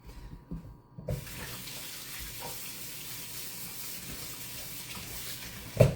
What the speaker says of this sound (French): j'ai rincé ma main pleine de chocolat